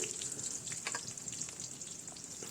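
Chopped onion sizzles faintly in oil with spices in a pan, a soft, steady hiss with light crackle and no voices.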